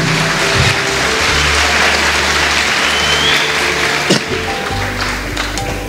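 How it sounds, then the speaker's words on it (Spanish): A church congregation claps for the Lord during a sermon, with dense, steady clapping holding at a loud level the whole time and a brief sharper clap standing out near the end. "Aplauda, aplauda para el Señor."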